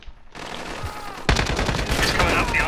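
Rapid automatic gunfire in Call of Duty Modern Warfare 2v2 alpha matches, a quieter burst early on and then a loud, sustained stream of shots with people talking over it.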